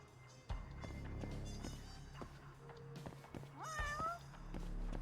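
A cat meows in the video game Judgment, one clear rising-and-falling meow near the end over a bed of game ambience, faint background music and light footsteps.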